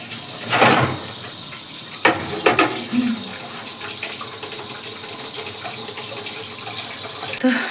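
A kitchen tap runs while dishes are washed, a continuous close splash of water with a few clinks and knocks of utensils against the sink.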